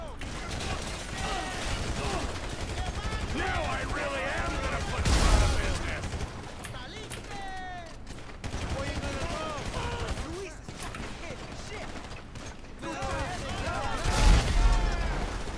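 Gunfire in GTA 5 on PC: scattered shots with two heavier booming bursts, running under game music and steady talk.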